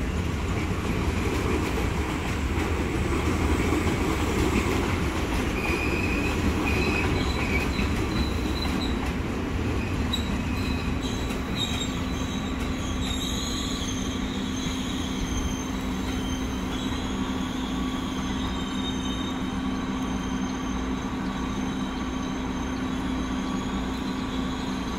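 A KRL commuter train pulls into Bogor station with a loud, continuous rumble of wheels on rails and a sustained high metallic squeal, close by and steady throughout, without speech.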